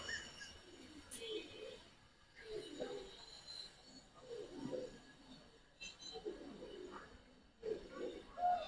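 Pigeons coo softly in a loft in repeated, low, throaty phrases, with faint chirps and a short bright note near the end.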